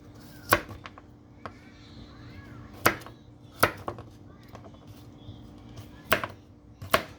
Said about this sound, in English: now we're gonna show you guys how to cut up the coconut